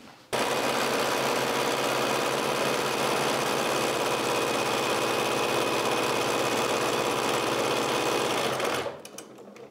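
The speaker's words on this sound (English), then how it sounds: "Onto the sewing machine." A sewing machine stitching a strip set of two fabric strips for a quilt block runs in one steady, continuous whir close by, starting abruptly and stopping near the end, with no talking.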